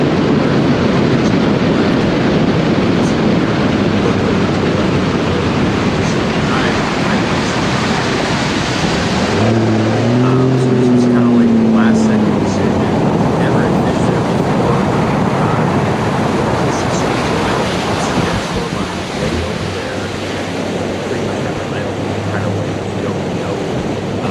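A bass boat runs across Toledo Bend lake toward a fishing spot during a Bassmaster Open, its steady loud engine and hull roar mixed with wind and water rush throughout.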